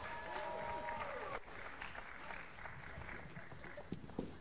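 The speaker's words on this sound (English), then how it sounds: "Can we have a round of applause for Ariana Flores Rojas?" A school audience at a multicultural performance applauds for a performer, a broad, even wash of clapping from a large crowd that carries steadily throughout with no voices standing out.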